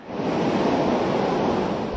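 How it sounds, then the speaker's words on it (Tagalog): Strong typhoon wind and large crashing sea waves on the coast of Aurora during Typhoon Kristine form a loud, continuous, dense roar with no pause. "Malakas na kasi ang hangin at naglalakihan na rin ang alon."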